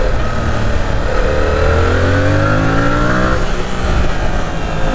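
A 2022 Yamaha R7, a light sport motorcycle with a twin-cylinder engine, accelerating hard through the gears on a first ride, rising engine tones sweeping upward through successive shifts, loud and close over constant wind rush, with no voices.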